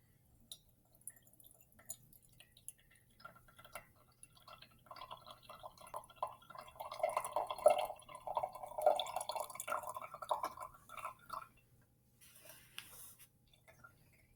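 Water dripping through filter paper into a cup while separating a salt-water mixture, a faint, irregular patter of small drips that swells into a denser trickle midway, then thins out again.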